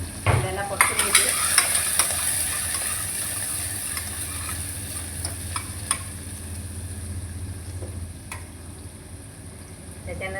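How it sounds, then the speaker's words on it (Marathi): Onion sautéing in a pan for a spinach curry, a close sizzle with stirring scrapes and a few spoon knocks over a low steady hum, loud at first and settling to a softer fry. "तर मी पहिला कांदा टाकते. कांद्याला परतून घेते."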